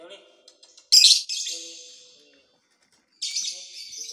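A lovebird close by gives bright, shrill chirps and one loud squawking burst, with a faint voice or screen audio murmuring underneath at the start.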